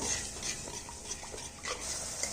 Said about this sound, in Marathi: दही छान असं याच्यामध्ये मिक्स करून घ्यायचं